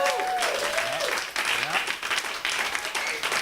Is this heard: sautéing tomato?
no